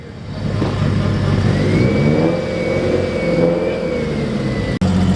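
A finished, freshly wrapped car's engine revs loud and close, holding a sustained rising whine before cutting off abruptly near the end.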